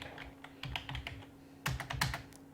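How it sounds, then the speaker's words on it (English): Keys clacking on a computer keyboard as a SQL query is typed, with short, irregular bursts of quick clicks separated by brief pauses, close and fairly quiet. "we'll start typing"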